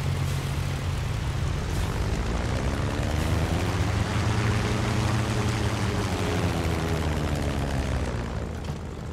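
Hawker Hurricane piston engine in a VR dogfight flight game, a loud steady propeller drone with a rising and falling throttle pitch, heard alone without talk.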